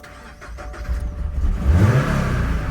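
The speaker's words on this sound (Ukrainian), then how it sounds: "Автівочка запустилась, все добре" A 2024 Toyota GR86 engine cranks and catches, then revs up with a rising growl and settles into a loud, rough idle close by, with no talking.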